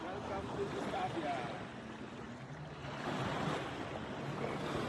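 Ocean waves wash steadily at a beach in Gustavia, St Barts, a broad continuous surf rush with gusting wind noise, fairly loud and with no voices over it.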